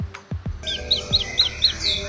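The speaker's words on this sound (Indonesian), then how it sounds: "supaya burung pleci rajin berkicau ya" Javan white-eye (pleci) gives a run of about six quick, bright chirps in an even rhythm, close and clear, after a few soft low knocks at the start.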